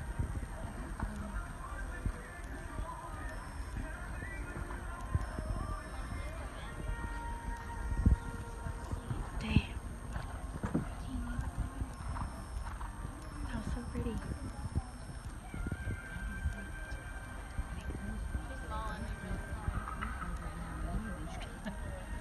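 A horse being ridden in a hunter/equitation sale session at Camwood Farm, its hooves giving a faint rhythmic clip-clop on the ground, with people chatting nearby through much of it.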